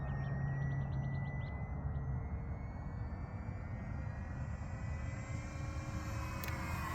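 An FMS 1500mm Cessna 182 radio-controlled model plane on its maiden flight, its electric motor whining in a thin, rising tone as it passes at a distance over an open field, with steady wind noise and no voices.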